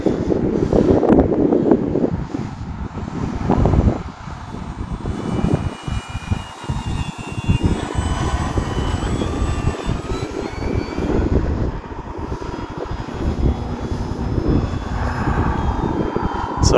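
FMS Pitts V2 1400mm RC model biplane flying in strong wind on a sunny day, a continuous buzzing electric motor whine rising and falling as it passes, heavily buffeted by loud wind rumble on the microphone.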